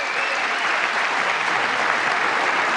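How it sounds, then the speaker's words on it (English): Sustained applause from a large audience during the State of the Union address, a dense steady roar of clapping that holds at an even, loud level throughout with no voices breaking through. "That makes 8 applause breaks."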